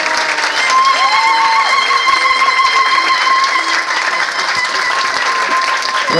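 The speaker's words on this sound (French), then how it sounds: "On peut les applaudir bien fort." An audience applauds steadily and loudly for several seconds, with a faint whistle-like tone and murmuring mixed into the clapping.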